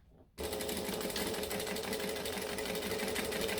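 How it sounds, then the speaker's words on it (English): A sewing machine starts abruptly after a brief quiet moment and then stitches down the side of a fabric piece in a steady, rapid, close-up mechanical whir that runs unbroken to the end. "I'm going to stitch down the side."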